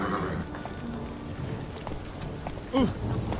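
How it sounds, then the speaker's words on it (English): Roach the horse runs through rain in The Witcher 3: hoofbeats clop under a steady rain hiss, with a short loud whinny near the end. "Whoa there, Roach. Must be bad running around in this rain"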